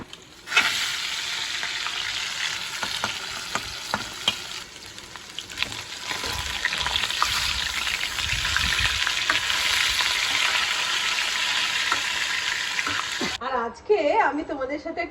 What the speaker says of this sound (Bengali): এখানে কাতলা মাছ ভাজা চলছে